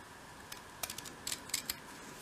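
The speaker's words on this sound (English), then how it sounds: "use your scissors just to snip away the excess fabric at the front" Small scissors snip away excess fabric while a dolls house bedroom item is being made, giving several quick, faint, close snips over a low background hiss.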